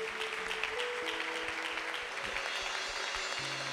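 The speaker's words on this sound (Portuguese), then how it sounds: "Quem pode aplaudir Jesus pela vida do Johnny e a Jaque?" A church congregation applauding during a service, moderate continuous clapping heard a little distant in a reverberant room, with faint tonal hum and instrument notes underneath.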